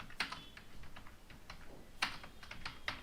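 Code typed on a computer keyboard: soft, close key clicks in an uneven rhythm with a few louder strokes over a faint background hiss.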